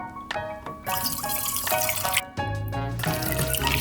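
Water runs and splashes steadily into a container while mixing film developer, with small drips and a brief pause before the pour continues, close and fairly loud.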